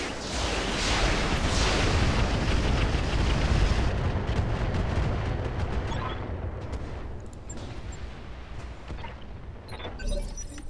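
Weapons fire pounding a building in the Roguetech BattleTech game, a dense, loud roar of explosions and gunfire that fades into scattered sharp shots and crackles toward the end.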